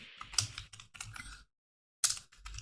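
Someone typing on a computer keyboard while naming an API key during a Binance and TradingView setup, producing two quick bursts of close, crisp key clicks separated by a brief pause.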